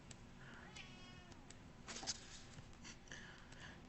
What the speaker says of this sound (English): freaking cat, man.